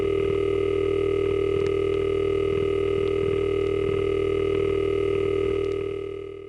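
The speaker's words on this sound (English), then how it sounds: "You can hear one of the legacy dial tones of this building" A legacy telephone dial tone from the old 660 West 36th Street exchange building in New York, a steady continuous electric hum of stacked tones that holds unbroken and fades slightly at the very end, with no voices.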